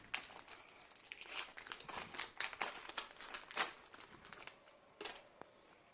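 A Pokemon card pack's foil wrapper from the XY Evolution set being ripped open, with close crinkling and tearing in uneven bursts for several seconds, fading out at the end; no talk.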